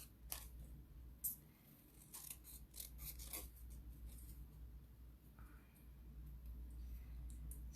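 Scissors snip around a paper design during card making, giving a close series of crisp, irregular cuts and rustles in bursts, then quieter paper handling over a steady low background hum.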